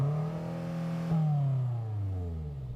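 A BMW M8's engine is revved hard, a loud, close, rising-then-falling growl with a sharp blip of throttle midway before settling back down, with no talking over it.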